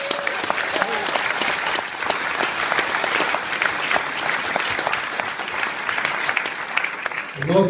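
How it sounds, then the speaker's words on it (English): An audience at a public ferry engagement meeting gives a steady round of applause, with many hands clapping close by for several seconds before it fades and a voice comes in at the end. "I'd like them to have a round of applause."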